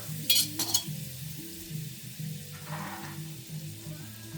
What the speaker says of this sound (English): we got this pan that's hot. It's got some oil in there from the Spam. A tablespoon of butter.